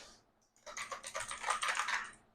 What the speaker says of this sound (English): Let's get in the keyboard. That clicky sound.